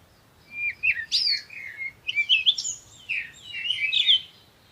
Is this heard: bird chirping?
yes